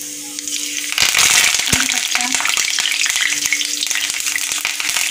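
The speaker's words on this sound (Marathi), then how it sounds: "तेल गरम झाले, त्यामध्ये आपण जिरा आणि मोहरी घालत आहोत" Cumin and mustard seeds drop into hot oil and sizzle hard, with a burst of crackling and popping near the start that settles into a steady close fry, no talking over it.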